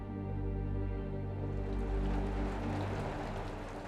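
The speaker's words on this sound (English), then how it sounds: "When it begins to rain in Svaneti, people know the winter is just around the corner." Steady, fairly quiet rain falling in Svaneti, a soft wash of drops with a low rumble underneath, no voices.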